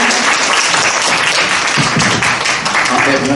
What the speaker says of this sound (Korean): 이성현 교수님을 따뜻하게 여러분 박수로 맞이해 주시기 바랍니다